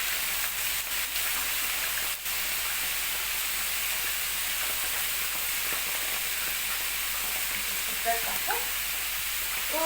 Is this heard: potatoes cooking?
yes